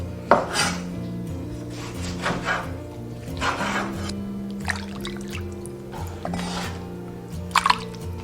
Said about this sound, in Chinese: 把它切成小块。